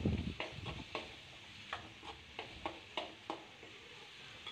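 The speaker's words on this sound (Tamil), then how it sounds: "தக்காளி நல்லா வதங்கணும்." Tomatoes sauté with rock salt in a pan for a country chicken gravy, giving a soft, low sizzle with a run of quiet, evenly spaced scraping stirs from a spoon against the pan.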